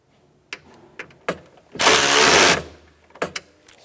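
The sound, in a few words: tool tightening a bolt on Ford Expedition window regulator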